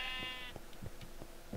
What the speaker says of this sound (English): Oh, thank God you're just a sheep.